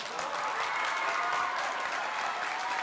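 Studio audience applause, a dense, steady wash of clapping that holds at even volume throughout, fairly distant, with no talk over it.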